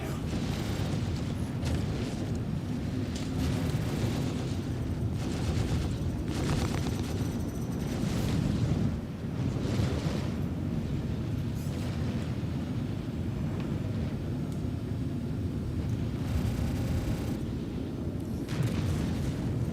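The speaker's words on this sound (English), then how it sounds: "Heavy fire." Heavy weapons fire and explosions in Star Citizen: continuous rumbling booms and blasts, loud and dense throughout, with repeated impacts layered over a low roar.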